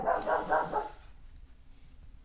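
A pet dog barks indoors, four quick loud barks in a row close by, followed by quiet room background.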